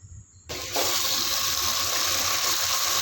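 Mutton dropped into a hot pot while cooking nihari sets off a sudden loud, broadband sizzle about half a second in, which then holds steady and strong without a pause.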